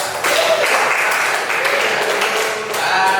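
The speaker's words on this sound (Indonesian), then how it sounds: "Berikan tepuk tangan untuk kelompok 2." A classroom applauds group 2, a short burst of clapping from many hands that holds steady for a few seconds, with voices faintly beneath it.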